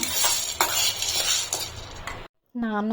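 Grains roasting in a pan for multigrain baby cereal are stirred with a metal spoon, giving steady scraping and clinking with a light sizzle. The stirring stops briefly and a voice begins speaking.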